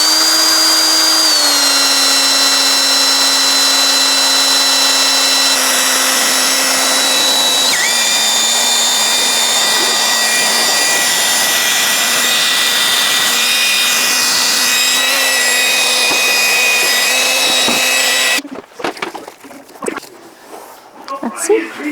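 A drill spins a sanding pad at a steady high whine, dry-sanding a hazy Ford headlight lens with 3000 grit from a Mother's NuLens kit; loud and close for about eighteen seconds, then it stops, leaving brief handling noises.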